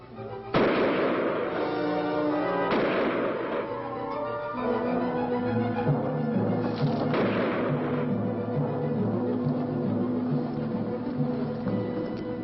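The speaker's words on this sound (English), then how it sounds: "Fire over its head!" Several booming gunshots fired over a creature's head in a 1958 horror film, with heavy echoing reports spaced a couple of seconds apart over a tense musical score.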